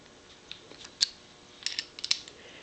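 Large lathe chuck being tightened with a metric Allen key on a 4th axis stepper gearbox, giving a few sharp metallic clicks and ticks spaced irregularly, close and fairly quiet with no talk.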